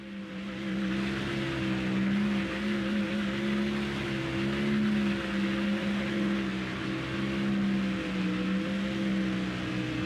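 A damaged race car engine running down a cylinder drones steadily and loudly in a Texas race, a rough, continuous low hum with wavering pitch and no voices.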